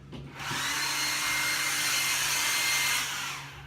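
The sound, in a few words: blow dryer running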